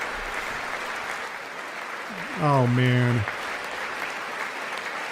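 Applause at the State of the Union address, a continuous wash of clapping from a large chamber, steady and moderately loud under a man's brief spoken exclamation.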